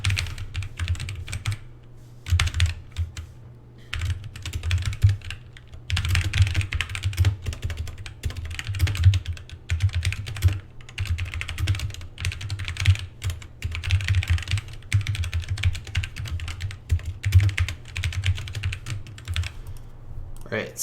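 Code is typed on a computer keyboard in rapid, irregular bursts of close clicking keystrokes, with short pauses between flurries and a low hum underneath.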